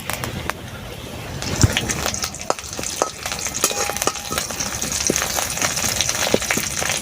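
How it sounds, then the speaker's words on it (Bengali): Ginger and curry leaves fry in a pan with chopped green chilli, giving a steady crackling sizzle broken by sharp pops and the scrape of stirring, with brief talk now and then. "আদাটা এখন একটু ভাজা ভাজা হয়ে গেছে, কারি পাতা দিয়ে দিচ্ছি।"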